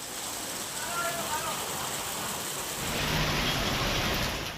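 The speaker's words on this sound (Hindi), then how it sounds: "तेज हवा के झोंकों के साथ भारी बरसात की ये तस्वीरें काफी राहत देने वाली हैं।" Heavy monsoon rain driven by strong gusting wind in Amreli, Gujarat, a steady dense hiss throughout that swells louder in the second half, with faint voices in the background.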